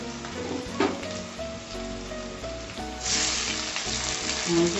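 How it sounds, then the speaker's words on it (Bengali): Tomatoes go into hot oil for Kolkata-style egg biryani and sizzle steadily at close range, with a louder burst of frying partway through as they are stirred in the pan. "আর টমাটারটাকে আমি ভেজে নেব ফটাফট"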